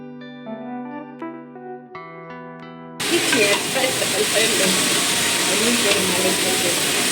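Cabbage and cauliflower with beans and pumpkin frying in a pan at an outdoor group meal, a loud steady sizzle and hiss that begins suddenly after a few seconds of music.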